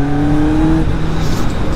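Kawasaki Z motorcycle fitted with a Hashiru Storm exhaust, idling with a loud, close, throbbing engine note that briefly rises in pitch before settling into a rougher rumble.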